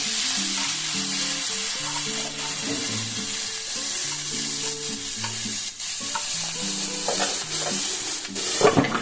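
Tomatoes go into hot oil tempered with whole cloves, cardamom and cinnamon, giving a loud, continuous close sizzle with stirring scrapes under steady background music.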